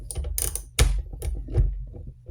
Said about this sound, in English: we got a 13 millimeter socket to get this guy out of here.